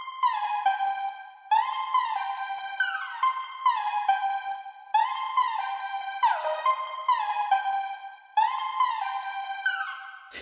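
Bright synth pad playing a repeating melodic pattern of sustained, harmonically rich chords and notes, steady and continuous with rhythmic note changes, heard alone without voices.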